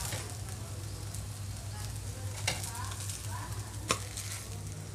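Ravva dosa made from sooji batter sizzles steadily on a hot pan, a soft continuous crackle with a couple of brief scrapes as it is turned and folded.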